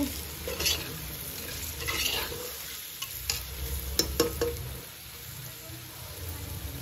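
Chicken biryani with garam masala being stirred in a sizzling pan, with a steady scraping, stirring rhythm over continuous frying hiss and a few sharper clinks of the spoon against the pan.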